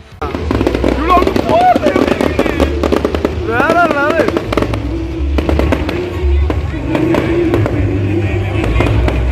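Firecrackers going off at the Manapad Holy Cross shrine festival: loud, rapid crackling bursts in dense volleys with a continuous popping roar, while people talk and call out nearby.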